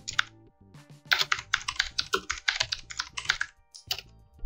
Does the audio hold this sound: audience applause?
no